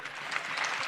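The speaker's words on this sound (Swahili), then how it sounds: "Makofi tafadhali" A brief burst of continuous audience applause at a students' career fair in Kiharu, soft and steady throughout.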